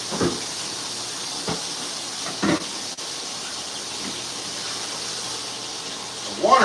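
A kitchen tap runs under very high water pressure while dishes are washed, giving a steady loud hiss of flowing water with a few faint knocks and clatters.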